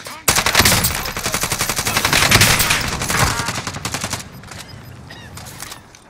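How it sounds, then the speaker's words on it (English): Rapid automatic gunfire in Call of Duty on Rebirth Island, loud close bursts of fast repeating shots for several seconds, tapering into scattered fire, with no voices. "We're taking fire!"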